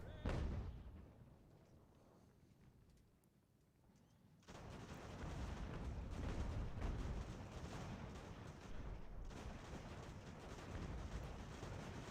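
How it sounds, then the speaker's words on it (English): Distant rolling cannon and artillery fire from a strategy video game of the American Revolution era, a sudden heavy rumble after a quieter start that continues as a dense, sustained barrage. "The enemy can shoot its artillery at us if it wants."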